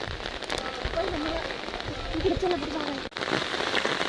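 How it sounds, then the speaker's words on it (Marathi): Heavy rain falling at Mahabaleshwar, a dense steady patter on surfaces close by, with a voice speaking faintly beneath it. "जबरदस्त पाऊस पडतो इथं"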